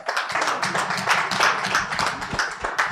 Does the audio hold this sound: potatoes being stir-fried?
no